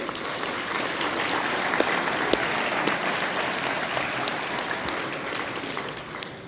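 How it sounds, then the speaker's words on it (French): Applause from an audience at a Quebec agriculture hall-of-fame ceremony, a dense, steady round of clapping that holds at even strength before thinning slightly at the end. "Mesdames et messieurs, applaudissons notre partenaire cocktail."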